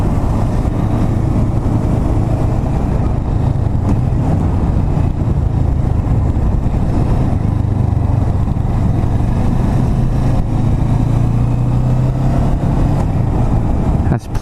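A Kawasaki Vulcan S motorcycle is being ridden, and its engine drone and wind rush hold a loud, continuous roar throughout, heard from the rider's position.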